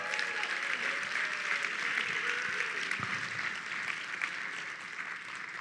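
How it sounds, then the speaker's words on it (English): Sustained applause from an audience at a charity fundraising gala, a steady dense wash of clapping that holds at an even, fairly loud level throughout without pause. "Give them a nice round of applause"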